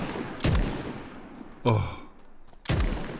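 Three heavy booming shots from an R12 semi-automatic shotgun in DayZ, spaced about a second apart, each with a deep decaying tail; a brief spoken exclamation occurs among them.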